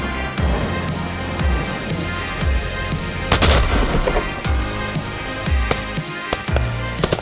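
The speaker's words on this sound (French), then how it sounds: "Canons César, chars, mortiers, hélicoptères et autres armes de guerre étaient déployés pour cet exercice exceptionnel." Rapid gunshots and heavy artillery blasts from a mountain military exercise with CAESAR guns, tanks, mortars and helicopters, loud repeated sharp reports in irregular bursts with echoing tails and no speech.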